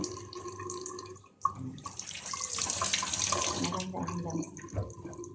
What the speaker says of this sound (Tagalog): Hugasan lang po natin ang egg, bawat isa.